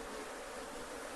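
Remnant killer bees fly about in the open air, making a faint, continuous buzzing hum with no voices.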